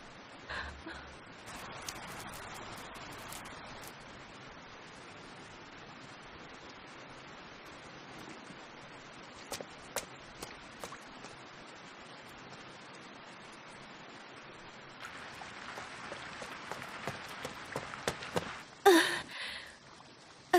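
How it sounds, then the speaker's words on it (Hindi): Heavy rain falling in a steady, faint hiss throughout, with scattered louder spatters and a few brief sharp knocks near the end. "फिर से बारिश शुरू हो गई है।"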